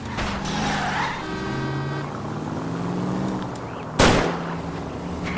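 Gunshots fired at a fleeing car's tires during a chase in L.A. Noire: a sharp, loud crack rings out over a continuous roar of engine and tires, with other car and engine noise running beneath.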